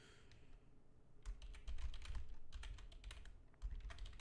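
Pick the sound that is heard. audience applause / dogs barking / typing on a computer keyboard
typing on a computer keyboard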